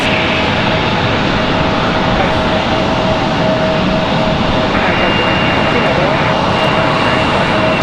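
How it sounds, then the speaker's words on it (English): Airbus A319 jet airliner arriving from Miami at Raleigh-Durham airport, a continuous distant jet roar with a faint steady whine, wind buffeting throughout and no voices. "So there's our A319 from Miami."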